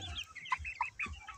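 A young Liven marbled hen of about 1.5 kg clucks close by in several short, clipped calls spaced unevenly, fairly quiet, with no voices over them.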